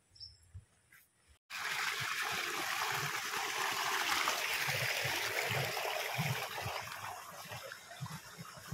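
Water rushes steadily through an irrigation channel feeding rice paddies in rural Leyte. The continuous flow starts abruptly after a quiet moment and stays close and fairly loud, with no talking.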